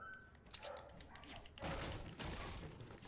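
A dog barks indoors in a room, a few short close barks and yips with a thump, while game sounds play in the background.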